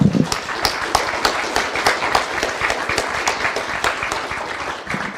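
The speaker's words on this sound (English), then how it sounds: "Please join me in a huge round of applause." Audience applause fills the room after a moderated panel discussion on artificial intelligence, steady dense clapping that holds throughout and tapers slightly toward the end.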